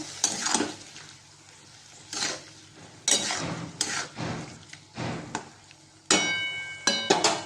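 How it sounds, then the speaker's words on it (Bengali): Food being stirred and mixed in a pan with coriander leaves produces repeated scraping and clinking bursts of utensil on metal, each lasting under a second, close and fairly loud with short pauses between. "এবার এটাকে ভালোভাবে মিক্স করে নেবো।"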